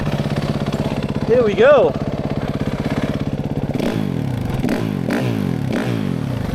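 A fuel-injected 2019 Suzuki RM-Z450 motocross bike idles with a steady, close putter, then revs sharply about four times in quick blips, with a voice speaking briefly early on over the engine at a local dirt track.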